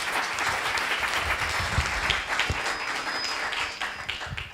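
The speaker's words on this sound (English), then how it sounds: "Round of applause" Audience applause at an AMC Edinburgh business event, dense and steady from a large crowd for several seconds, without talk.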